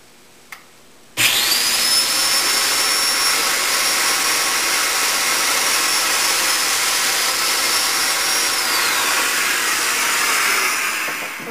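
Domino joiner cutting side mortises into a veneered sideboard carcase, its fence depth offset for the side cuts: a sharp click, then a loud continuous high-pitched whine of the cutter running steadily for about ten seconds before spinning down, with no talk.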